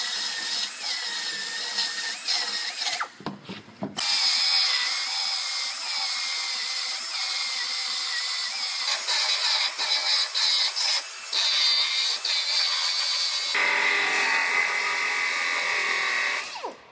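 A power cutting tool grinds through the aluminum body panels of a Ford F-150. The high, whining buzz runs almost continuously with brief pauses and shifts in pitch as the blade bites, and no voices are heard.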